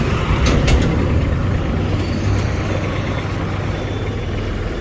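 A 23 hp ISEKI GEAS 233F mini tractor engine runs steadily with a low, rumbling drone throughout, close by, with a few brief higher clanks near the start, as it reverses and turns.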